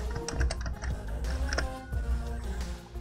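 Rapid keystrokes on a computer keyboard, typing a Windows command into a PC, with an irregular steady patter of clicks close by and no talking.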